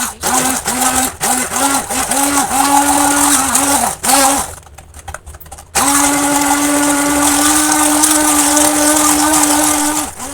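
An electric mixer whirs loudly through a batter of water, sugar, oil and powdered milk for a tea cake, first in short pulsing bursts, then after a pause running in one long, steady drone.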